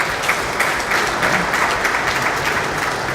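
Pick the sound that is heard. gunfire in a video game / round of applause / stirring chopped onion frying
round of applause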